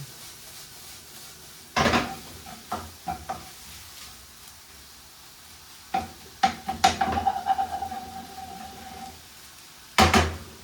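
Salmon and noodle stir-fry with mangetout being mixed in a pan, heard as a few sharp utensil scrapes and clatters against the pan, with quiet sizzling in between.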